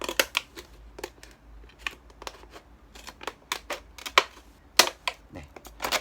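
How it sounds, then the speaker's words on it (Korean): Scissors snip through a plastic PET bottle in a rapid series of sharp, crisp cuts, close up, with irregular rhythm and no voices. "이렇게 자르는 거는 가위로 자르는 게 더 좋겠지요"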